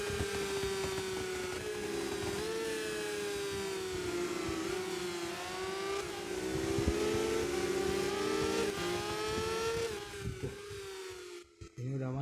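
Motorcycle engines in the MotoGP 2021 video game on PSP whine steadily at a high pitch, rising and falling as the bikes shift, with a continuous electronic tone and some speech mixed in.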